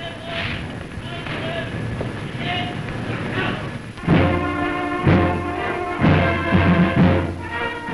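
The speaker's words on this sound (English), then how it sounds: "The journey is then by train to Victoria Station, where King George VI" A train on the journey to Victoria Station rumbles and clatters over rails in an old newsreel, with steady rhythmic wheel beats and a loud, rolling mechanical roar that grows in the second half.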